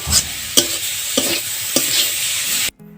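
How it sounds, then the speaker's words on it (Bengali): Khesari greens stir-fried in a pan over medium heat, a loud close sizzle broken by four regular scraping stirs about every half second before cutting off abruptly. "চুলার জালটা মিডিয়াম আঁচে রেখে আমি শাকগুলো ভালোভাবে ভাজা ভাজা করে নেব।"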